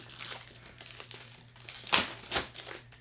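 A UPS box sealed inside a Ziploc bag is opened with quiet plastic crinkling and rustling, with a couple of sharper louder crackles partway through.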